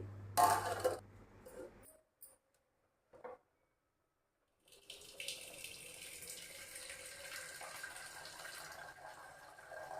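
Starchy water is drained off a pot of freshly cooked rice in a home kitchen, a soft continuous pouring and splashing that starts after a few clunks and quiet handling and carries on to the end.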